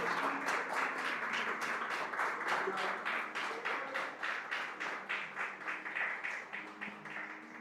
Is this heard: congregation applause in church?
yes